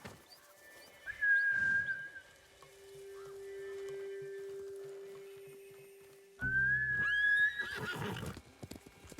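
A horse in a video game neighs twice in loud, shrill whinnies a few seconds apart, with soft hoof clops and faint background ambience between the calls.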